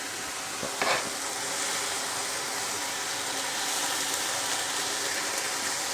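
Finely chopped fresh fenugreek leaves fry in a pan with a steady broad sizzle, a brief scraping stir near the start, the hiss continuing evenly throughout.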